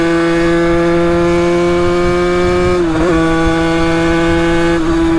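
A motorcycle engine cruises in sixth gear at about 80 km/h, a loud, steady droning hum close by that briefly wavers midway before settling back to an even note.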